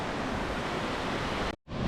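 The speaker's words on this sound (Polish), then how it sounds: "docieramy do wodospadu Skok" Skok waterfall in the Młynicka valley, heard as a steady, close, broadband rushing roar of falling water with no voices, briefly cutting out near the end before resuming.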